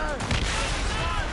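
Ship cannons firing in a naval battle in Assassin's Creed Rogue, a dense burst of booming shots lasting about a second, mixed with shouting.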